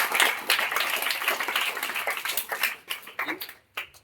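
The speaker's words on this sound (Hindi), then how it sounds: "आप लोग तालियां बजाकर उनका स्वागत करेंगे" An audience at a school event claps to welcome a first-place prize winner: a few seconds of moderate, scattered clapping that thins out toward the end, with brief breaks near the close.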